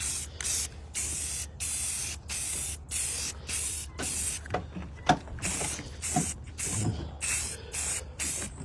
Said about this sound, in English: I'll put a coat of primer on it